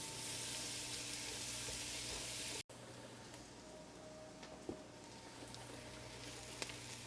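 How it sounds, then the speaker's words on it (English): Onions sautéing in a pan for shepherd's pie give a steady, soft sizzle that runs through the whole stretch, broken by one brief dropout, with a few faint clicks of stirring. "Add the onions. And cook until they're softened."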